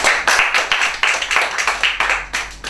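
Crowd applause at a graduation awards ceremony, a rhythmic burst of many hands clapping fairly close and loud, pulsing steadily for a few seconds with no talk.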